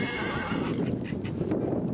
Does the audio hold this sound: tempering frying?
no